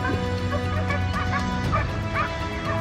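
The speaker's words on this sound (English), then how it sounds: "our pack of dogs discovered their tracks" A pack of hunting dogs barks and yips continuously on a wild boar hunt, several dogs overlapping in a loud, steady chorus with whimpers mixed in.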